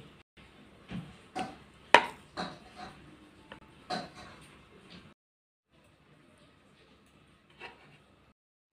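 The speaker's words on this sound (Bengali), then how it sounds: "এখন আমি একটা কাঁটা চামচ দিয়ে ডিজাইন করে নিব।" A fork presses a pattern into atta peanut biscuit dough, making a run of soft, close taps and light clicks for about five seconds, then near silence broken by one more quiet tap.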